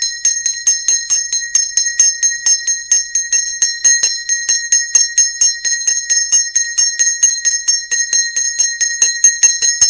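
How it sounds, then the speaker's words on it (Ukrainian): A school bell rings in a rapid, steady metallic peal at a Ukrainian last-bell ceremony, loud and continuous with no voices over it. "Шкільний дзвінок востаннє продзвонить."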